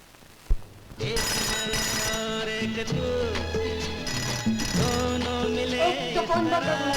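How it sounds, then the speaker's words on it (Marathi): An old-style telephone bell rings in a Marathi comedy film scene, with a loud, close, metallic trill that goes on in repeated bursts after a brief knock at the start, over faint background sound. "कुणीतरी घ्या ना तो फोन"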